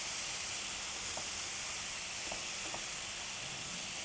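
Salmon fillets fry in a hot pan for a teriyaki rice bowl, giving a steady, dense sizzle and hiss throughout with a few faint clinks of turning, no voices.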